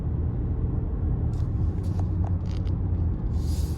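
Steady low road rumble from inside a moving Mercedes GLE, with tyre and engine drone holding level throughout and a few faint clicks on top.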